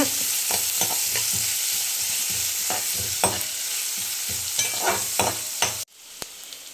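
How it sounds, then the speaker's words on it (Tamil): Onions with cinnamon, cloves, cardamom and fennel sautéing in a pan for a Kerala home breakfast: a close, continuous sizzle with rhythmic stirring scrapes, ending abruptly in near silence. "பட்டை லவங்க ஏலக்காய் சோம்பு இதெல்லாம் போட்டுடலாம் வெங்காயத்தை போட்டுக்கலாம் நல்லா வதக்கிடுங்க"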